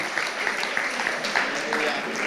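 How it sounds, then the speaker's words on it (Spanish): Continuous applause from a church congregation fills the space, dense and steady, with voices mixed faintly underneath. "dale otro aplauso al Señor"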